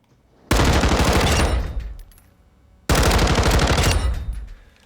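Two long full-auto bursts from an MCX Rattler rifle chambered in 300 Blackout on a Call of Duty Modern Warfare II firing range, each a loud, rapid rattle of shots about a second and a half long, with a pause between.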